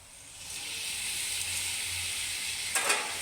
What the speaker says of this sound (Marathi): आणि आता ह्याच्यामध्ये आपण मटार घालणार आहोत आणि मटार पण घालून त्याच्यामध्ये छान आता आपण परतून घेऊया